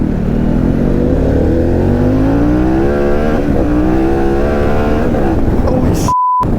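Harley-Davidson Pan America 1250 motorcycle engine revs hard and climbs in pitch during a power wheelie, a loud, close roar with rising harmonics, then a brief electronic beep at the end.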